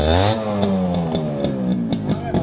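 A modified Yamaha RX100 two-stroke motorcycle snarls close by. A loud rev drops into a choppy, popping idle with sharp exhaust cracks every half second or so.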